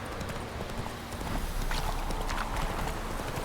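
Horse hooves clip-clop at a walking pace in The Witcher 3 video game, a soft, rhythmic patter of steps under faint ambient game sound.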